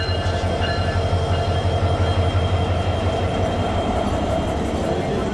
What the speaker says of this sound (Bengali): আমরা চলে আসলো আমাদের সেই ট্রেন, আমরা ট্রেনে করে এখন চলে যাব। এই হচ্ছে আমাদের ট্রেন।